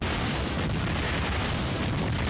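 Cannon fire in the action game God Hand lands as a dense, continuous barrage of booming explosions, loud and close, filling the whole moment with rumbling blasts and no voices.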